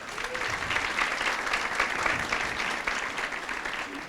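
Church congregation applauding servants at a Spanish-language missionary gathering, steady dense clapping from a sizable crowd throughout, fairly close and even in level with no pauses.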